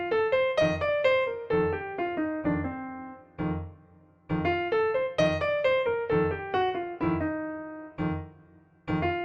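Solo piano plays a chord resolution exercise, bright chords repeated in an eighth-note left-hand rhythm, with descending voicings and brief pauses between phrases, clear and close.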